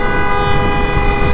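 A truck-style air horn fitted to a 2021 Royal Enfield Bullet 350X blares in one loud, sustained, multi-tone blast up close, steady throughout.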